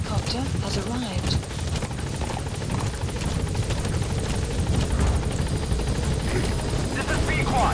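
Support helicopter arriving at a landing zone in Metal Gear Solid V, a steady loud rotor drone and whine holding throughout, with radio voice talk over it.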